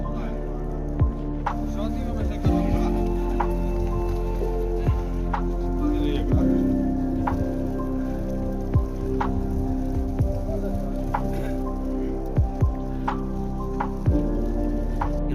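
Steady rain mixed with snow patters down in a hill storm, with scattered sharp drips and ticks, a constant wet hiss close by with a low rumble underneath.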